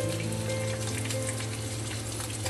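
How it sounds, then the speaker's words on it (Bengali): Koral fish frying in oil, a steady dense sizzle with constant crackling that holds at the same loud level throughout, close up and uninterrupted, with no voices. "মাছটা আমি লাল লাল করে ভেজে নিব এপাশ ওপাশ উল্টিয়ে"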